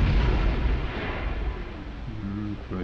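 A protein grenade exploding in Borderlands, a loud booming blast with a rumbling tail that fades over a couple of seconds, with brief game sounds near the end.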